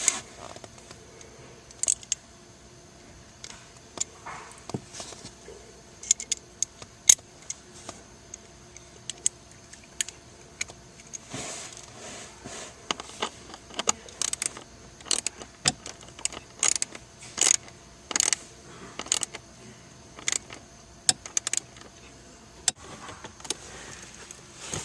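Socket wrench on an extension snugging bolts, a run of sharp metallic ratchet clicks and clacks in scattered bursts, moderately close, against a quiet background with no talking.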